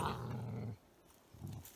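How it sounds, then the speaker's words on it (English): A Belgian Malinois gives two low, close growls separated by a short quiet gap, the second growl shorter than the first. "Belgian Malinois."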